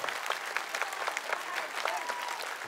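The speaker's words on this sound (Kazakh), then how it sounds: "Шапалақ соқ қойыңыздар" A studio audience at a children's singing competition applauds in a dense, even burst of clapping that carries steadily through the short stretch without any voices.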